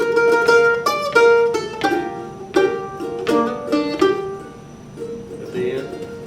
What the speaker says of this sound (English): Let's just play two downstrokes.